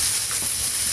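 Onion hitting a hot pan for spicy Korean ramen, a steady loud sizzling hiss filling the whole brief moment.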